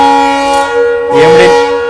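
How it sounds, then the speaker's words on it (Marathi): A locomotive horn sounds from a DEMU train on the Pune to Baramati line: one loud, close, steady chord blast holding through the whole moment, with a rougher swell of rumble near the end. "EMDने हॉर्न दिला आपल्या."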